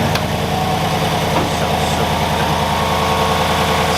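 Chevrolet Silverado pickup truck engine idling after starting, a steady, close, throbbing low rumble with a regular pulsing beat throughout, with no talk.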